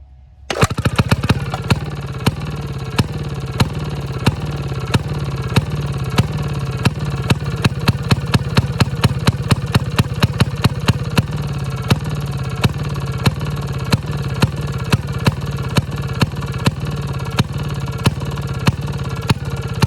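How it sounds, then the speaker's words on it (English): A Maytag model 92 kickstart engine runs steadily close by, with a rapid, even stream of sharp firing pops over a low mechanical drone from start to finish, without any talking. "this is a Kickstart motor"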